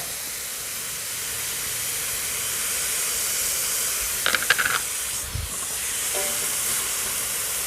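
Winged beans stir-frying in a wok over high heat for an egg dish give a steady, even sizzle throughout, with a few brief clinks of a utensil near the middle and a short thump shortly after.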